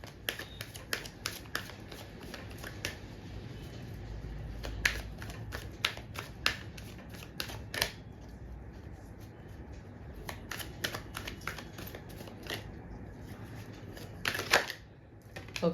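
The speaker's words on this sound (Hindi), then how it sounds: "एक कार्ड और लेते हैं।" Tarot cards are shuffled and drawn, giving crisp, rapid flicks and snaps in irregular bursts, close and fairly quiet, with soft speech at times underneath.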